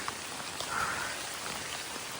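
Steady rain falls on a muddy stretch of the Appalachian Trail, a continuous close hiss of drops on wet ground and foliage with no talking.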